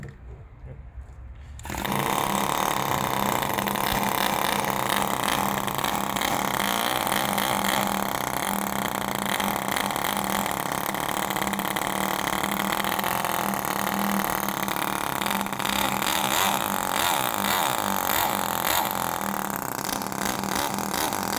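A Kawasaki NR200 motorcycle engine cranks and catches after a brief quiet moment, then settles into a steady, loud idle that runs uninterrupted, slightly rich.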